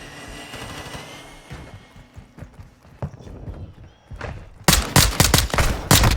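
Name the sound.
gunfire in a video game shooter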